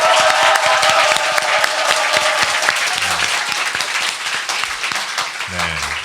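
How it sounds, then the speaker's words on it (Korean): Dense, steady audience applause fills a Korean current-affairs talk show studio taping, loud and continuous for several seconds with a few sharp individual claps standing out near the end. "힘찬 박수와 함께 시작하겠습니다"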